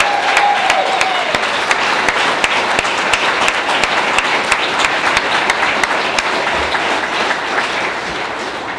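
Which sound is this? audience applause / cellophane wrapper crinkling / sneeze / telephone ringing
audience applause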